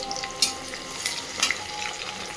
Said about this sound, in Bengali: এবার পেঁয়াজের সাথে আমি টমেটোটাও ভেজে নেব।